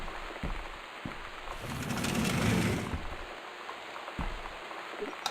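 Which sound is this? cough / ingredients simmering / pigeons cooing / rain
rain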